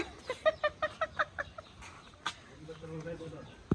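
A hen clucks in a quick run of rhythmic, nasal clucks close by, followed by a low murmuring voice.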